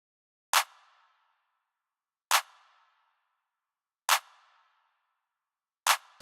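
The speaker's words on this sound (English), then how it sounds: "So I just put in this very simple clap pattern that sounded like this." A programmed clap in a trap beat hits four times at an even, slow interval, each a sharp, bright snap with a short tail, heard alone against silence.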